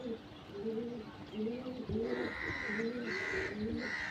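Pigeon of a Malwa breed offered for sale, cooing in repeated low throaty phrases, close and steady, with a faint higher tone joining later.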